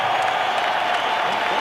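Dense, steady roar of an arena crowd applauding and cheering two heavyweight boxers after a bout, loud and continuous throughout the short stretch.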